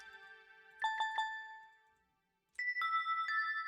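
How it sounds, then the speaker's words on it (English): Bell preset from the Nexus synth in a Metro Boomin style plays two phrases of bright, ringing bell notes separated by a short silence, clear and alone. "This one is one of my favorites, bell."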